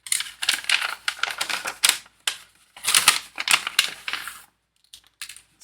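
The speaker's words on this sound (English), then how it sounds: "Sorry about the crinkling from the bags, they are noisy, I know." Plastic parts bags for a 1:2 scale Alien model kit crinkling as they are opened, bursts of crisp rustling close up with short pauses between.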